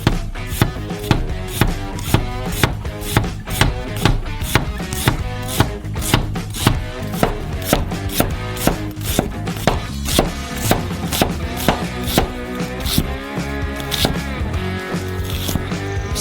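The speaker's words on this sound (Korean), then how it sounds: "반고리로 썰어요." A knife chops an onion into half rings on a cutting board, with steady, evenly spaced crisp knocks repeating close up for a long run and no talking.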